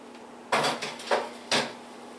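Three sharp clatters of kitchen utensils and containers being set down into a sink, spaced about half a second apart, close and fairly loud in a quiet room.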